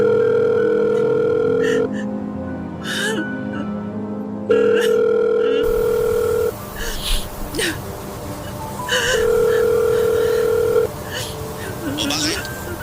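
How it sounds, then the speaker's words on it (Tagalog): A telephone tone sounds in long steady beeps while a call is placed, repeating at intervals, loud and close, with people talking over and between the tones. "Susubukan kong tawagan siya ngayon."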